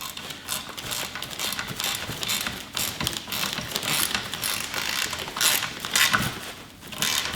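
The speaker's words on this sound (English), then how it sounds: "Let's go ahead and tighten this up." Screws are tightened on a spiked sissy bar for a Harley Fat Bob 114, with a steady run of close, rapid ratcheting clicks and small metallic knocks across the whole stretch.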